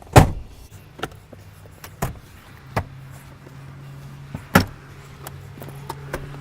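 Rear seats of a 2017 Dodge Grand Caravan SXT Plus are folded back up, with scattered loud clunks and latches, softer rattles between, and a low steady hum in a quiet cabin.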